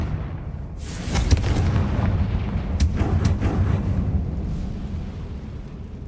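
A Confringo blasting spell explodes in the Hogwarts Legacy video game, a loud, dense roar of booming blasts with sharp cracking bursts layered over continuous rumbling, filling the whole stretch with no voices.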